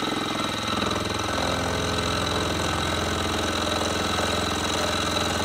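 Motor of a chip-cutting machine running at a steady, loud, continuous drone with a rough mechanical rumble, unchanging throughout with no talk over it.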